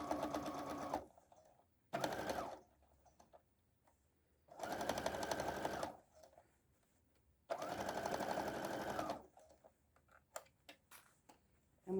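Sewing machine stitching around the edge of an Easter basket, three long bursts of rapid mechanical whirring separated by quiet pauses, with a shorter burst and scattered clicks and taps between runs, close up.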